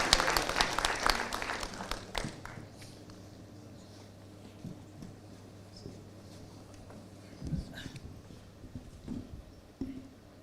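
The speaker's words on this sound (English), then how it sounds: "A round of applause, please." Applause from a conference audience at an evening session, a dense burst of clapping in the opening two seconds that fades quickly, then a low room hum and a few scattered claps and stirrings toward the end.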